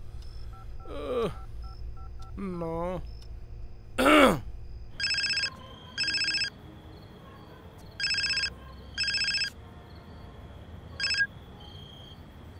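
A telephone keypad sounds a run of distinct dialing tones, then a ringback tone pulses in several evenly spaced bursts. Before it, a voice briefly murmurs and a short vocal sound is heard in a quiet room.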